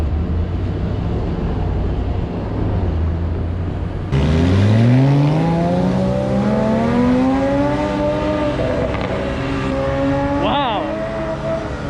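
A Porsche Boxster's engine revs and rises in pitch as the car drives past on a busy city street in Miami, loud and close, with a person talking over the traffic.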